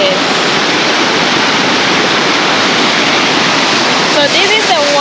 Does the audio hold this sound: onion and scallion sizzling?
no